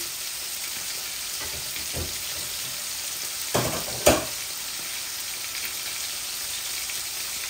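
Curry base with chitol fish head frying in a pan, a steady close sizzle throughout with a couple of brief clinks of stirring.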